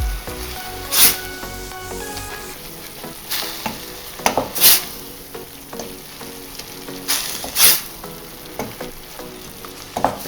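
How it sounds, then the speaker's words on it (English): Vegetables and red wine for a bolognese sauce sizzle steadily in a pan, with several louder scraping stirs of a spoon at intervals over the constant frying hiss. "And give it a stir."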